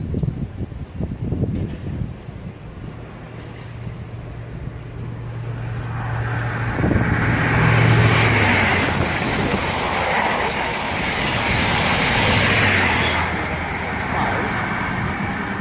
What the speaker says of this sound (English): So that's a Freightliner service, probably Acton bound.